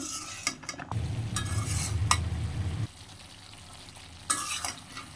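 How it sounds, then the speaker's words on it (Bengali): Agra data greens sautéing and being stirred in a pan, a steady low sizzle with scraping spoon strokes for several seconds, then a quieter stretch broken by a few sharp utensil clinks near the end. "এটা সুন্দর করে আমার কষানো হয়ে গেছে আমি কষিয়ে নিয়েছি সুন্দর করে"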